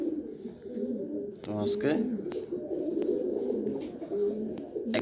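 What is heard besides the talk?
cream bar pigeons cooing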